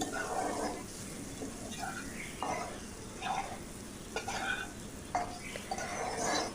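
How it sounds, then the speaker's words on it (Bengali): Prawns and ground spices including cumin fry over a low gas flame in a pan, with a steady close sizzle broken by scraping stirs every second or so. "সুন্দর করে সমস্ত মশলাগুলোকে আমি মিশিয়ে দিচ্ছি"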